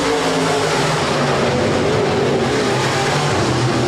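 USRA B-Modified race cars roar around Rapid Speedway on a race night, a steady loud engine drone filling the whole stretch with no voices.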